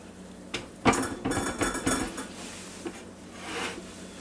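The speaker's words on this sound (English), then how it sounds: "I'm going to lift the lid" Lid of an Instant Pot lifted off after cooking meatloaf, a cluster of close metallic clanks and rattles, then quieter handling noises and a soft hiss.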